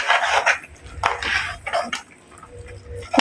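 Cowpeas (chawli) are stirred into spice chutney in a pan, with a spoon scraping and clattering against the metal in several quick strokes.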